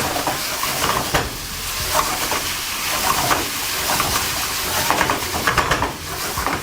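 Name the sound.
chicken jalfrezi tossed and sizzling in pan with garam masala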